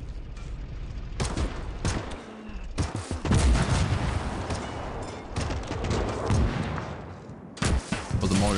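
Dense World War II gunfire from Gates of Hell: Ostfront, with bursts of rifle and machine-gun shots and heavy booms arriving in clusters, loud and close, no talk.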